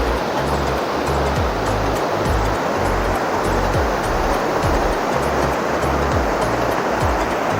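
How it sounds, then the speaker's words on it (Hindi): A fast mountain river rushes under a bridge in Ladakh between Tyakshi and Turtuk. It makes a loud, constant roar of churning water that fills the scene, with low rumbles underneath and no voices heard. "मस्त साउंड आ रहा है नदी का"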